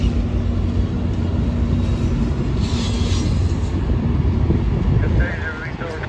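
An Amtrak Capitol Corridor train led by an F59PHI locomotive rumbles loudly and continuously at San Jose station, with voices speaking over the heavy diesel drone.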